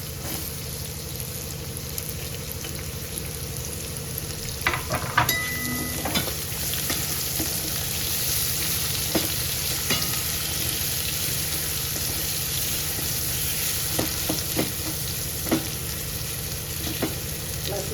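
Finely chopped onion fries in a pan with a steady, dense sizzle, broken by occasional stirring scrapes and clicks that run throughout without any talking.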